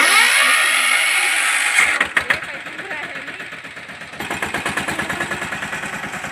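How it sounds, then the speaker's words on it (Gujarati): A tractor engine starts up and runs with a loud, rapid rhythmic chugging that pulses evenly after a burst of broadband noise at the start. "ટ્રેક્ટરનો અવાજ આવી હતી"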